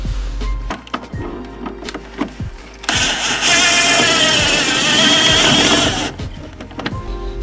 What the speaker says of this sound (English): with the impact wrench, you can just keep pulling on it while the impact wrench is spinning